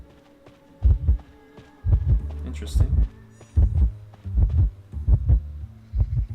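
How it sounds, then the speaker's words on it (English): In the Identity V survival game, a deep, throbbing heartbeat warning pulses in steady double thumps, loud and close, while a player briefly speaks over it. "Our heartbeat's pretty weak."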